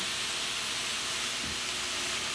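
Balsamic vinegar hits a hot pan of greens on high heat, giving a loud, steady, broadband steam hiss and sizzle that fills the whole stretch with no voices.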